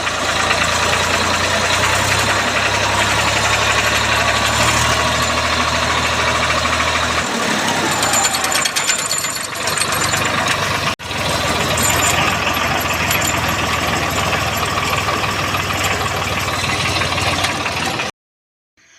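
A tractor engine idles loudly and steadily nearby with a low throbbing rumble, its tone shifting partway through before cutting out near the end.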